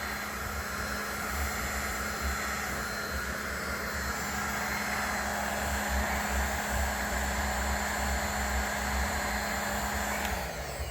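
Heat gun blowing hot air onto a headlight to soften its glue, a steady close roar of airy fan noise with a low hum that runs unbroken throughout before shifting slightly near the end.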